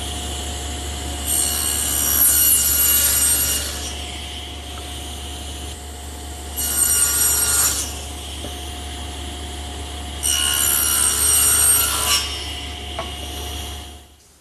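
Wood pieces run one after another through a table saw to cut tenons for a blanket chest, the blade about 3/8 inch high: three separate rising, whining cuts over a constant motor drone.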